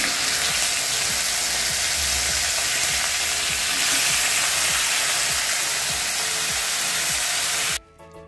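Chicken marinated with papaya, yogurt and spices sautéing in a pan, a steady close sizzle with scraping stir strokes throughout, cutting off abruptly near the end.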